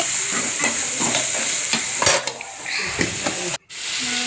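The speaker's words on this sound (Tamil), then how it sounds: "ஆனியன் நல்லா வணக்கி விடுங்க நல்லா வணங்கட்டும்" Onions sautéing in a pan, close and fairly loud, with a steady frying sizzle and rhythmic spatula strokes scraping the metal, then a brief cut near the end.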